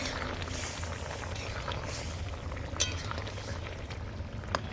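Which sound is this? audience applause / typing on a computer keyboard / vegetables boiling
vegetables boiling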